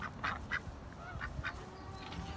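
Backyard ducks quack in several short, raspy calls at moderate distance, spaced irregularly over a low outdoor rumble, with no talking.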